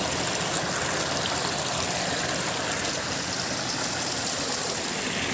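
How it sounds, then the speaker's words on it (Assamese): A small waterfall of clear water in a tea estate rushes in a constant, dense roar that is steady throughout and close by. "ইমান চাফা পানীখিনি, একদম পূৰা সৰু ৱাটাৰফল"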